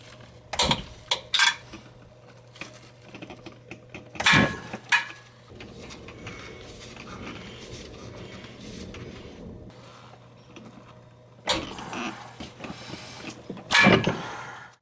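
Wrench ratcheting and clanking metal as drive shaft bolts are loosened on a Subaru during clutch and transmission removal, bursts of clicks and rattles separated by quieter working noise, close by, with no talking.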